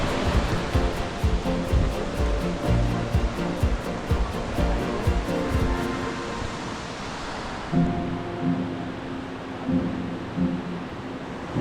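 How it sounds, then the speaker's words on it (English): Continuous roaring rush of falling water at the Plitvice Lakes in Croatia, loud and broadband, steady throughout with a slight change in tone partway. "Big waterfalls."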